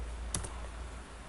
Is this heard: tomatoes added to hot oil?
no